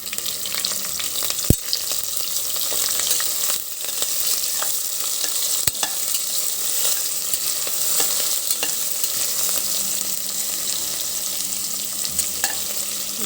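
Cucumber stir-fry sizzles steadily in a frying pan while a utensil stirs it, with a few sharp scrapes and clicks against the pan over continuous close frying noise.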